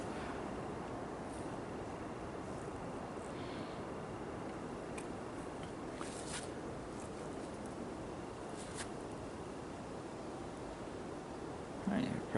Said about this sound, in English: that noise you hear is actually Lake Ontario raging.